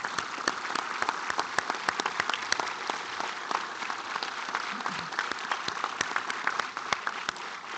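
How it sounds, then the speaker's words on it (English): A big round of applause from the audience at a student research awards ceremony, steady and sustained with sharp individual claps standing out through the wash. "applause"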